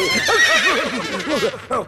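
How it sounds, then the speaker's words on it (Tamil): Horses neigh loudly and close by, a couple of wavering whinnies in quick succession, ending in a short snort. "குதிரைகளே கொந்தளித்து விட்டது."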